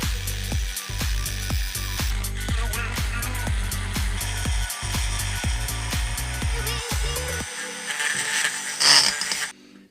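Rotary tool cutting a slot into the head of a screw on a motorcycle carburettor, a continuous high whine with rapid chattering pulses as the bit bites the metal, close up, ending in a brief shrill burst.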